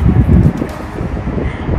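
Wind blowing outdoors on a very cold day, a loud, steady low rumble and buffeting against the microphone with no pauses.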